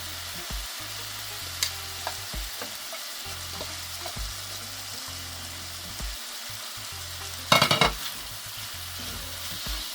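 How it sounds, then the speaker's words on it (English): Saltfish stir-frying in a pan on a high stove for a Jamaican callaloo breakfast, with a steady sizzle throughout and a brief louder burst of crackling near the end, no talking. "Our stove should be on high, so we're actually stir frying at this point."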